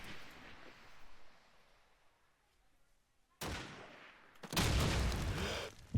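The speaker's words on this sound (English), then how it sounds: "And we got a nade and a frag there" A grenade blast and gunfire ring out in a competitive video game match, a low rumbling scene giving way to a sudden crack and then a loud, sustained burst of explosive noise.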